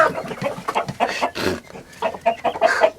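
An unidentified bird that sounds much like a chicken clucks repeatedly in short, uneven bursts, fairly close and moderately loud, with a busy farmyard backdrop.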